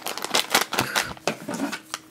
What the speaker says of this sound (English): That's what the scissors are for.